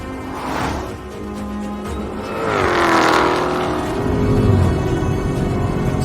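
A 2022 Dodge Charger Jailbreak or a Lucid Air GT accelerates hard, a loud, sustained roar whose pitch climbs steadily as the car gains speed, with road and wind noise building alongside and no talk.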